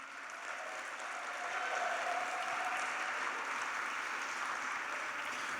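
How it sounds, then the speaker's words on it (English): Faint, distant applause from a graduation ceremony audience honouring the B.Ed class of 2025, a steady soft patter of clapping sustained throughout. "please give the B.Ed class of 2025 a big round of applause"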